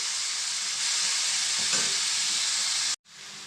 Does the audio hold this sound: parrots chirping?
no